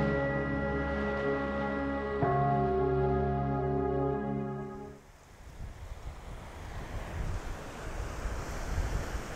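Sea waves wash onto a beach in Thailand with a steady, broad hiss and roll touched by wind, following a passage of soft music that fades out.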